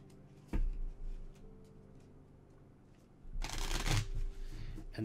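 A deck of cards is shuffled close by in two quick riffling bursts, a short one early and a longer, louder one near the end, with quiet room tone between.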